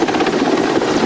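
A helicopter hovers over the 2014 Bosnia floods, its rotor beating in a loud, steady pulsing thrum with broadband engine roar, close and continuous with no voices.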